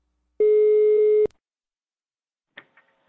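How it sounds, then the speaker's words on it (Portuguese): A telephone line tone sounds once as a call is placed, a single steady beep just under a second long, followed by a faint click and short electronic blips. "vou ligar pra Iris"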